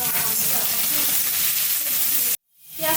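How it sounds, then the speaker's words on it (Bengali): Onions with green chillies frying in hot oil in a pan, a steady loud sizzle that cuts off abruptly near the end before a faint hiss returns. "পেঁয়াজটা ভাজা হয়ে গেছে লাল লাল করে"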